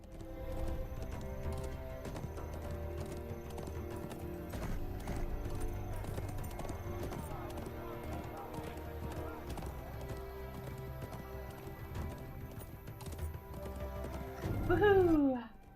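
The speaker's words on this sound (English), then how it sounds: "This is a medium war steed, so it's a little slower than a light." A medium war steed gallops in the fantasy video game LOTRO, a steady rhythmic stream of hoofbeats over layered game music, ending in a loud neighing whinny.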